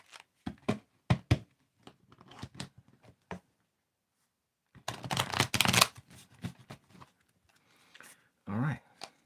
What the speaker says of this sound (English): give it one more shuffle